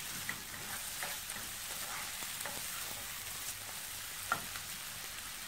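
Ingredients sautéing in a pan for egg pasta, a soft, even sizzle with occasional light stirring taps, fairly quiet and unbroken by speech.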